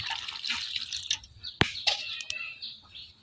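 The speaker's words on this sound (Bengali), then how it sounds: "এখন দিয়ে দেন পরিমাণ মতো ঝোল।" Broth is poured into a silver fish curry cooking with vegetables, giving a close, splashy liquid trickle and scattered drips, with chirpy bird-like sounds in the background.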